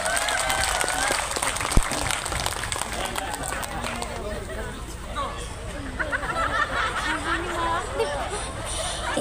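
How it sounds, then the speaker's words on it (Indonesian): A crowd of residents at a gathering in Binong, Subang, Indonesia claps steadily, with applause mixed into a babble of voices and chatter around it. "Tepuk tangan dulu dong."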